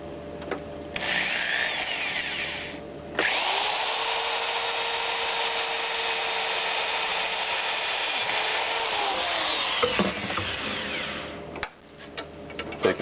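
A drill bit boring through the metal of a homemade locking snare, one continuous high whine lasting about seven seconds with shorter grinding bursts before and after, close and fairly loud.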